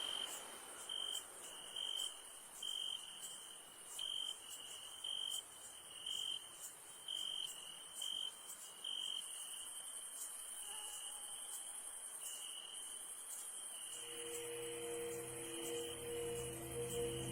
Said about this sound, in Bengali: ঝিঝি পোকার ডাকে কানে তালা ধরে যাচ্ছিল